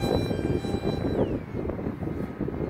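An RC L-39 Albatros model jet roars at full throttle on its maiden flight in very strong wind, a loud, continuous whooshing engine drone with no talk over it.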